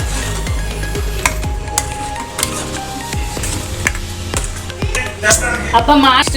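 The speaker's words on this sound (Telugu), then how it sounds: "అన్నీ మిక్స్ చేసుకోవాలండి" Spoon scraping and clinking in a pot as tamarind rice (chintapandu pulihora) ingredients are stirred and mixed with salt, with irregular close scrapes and light knocks and some faint sizzling.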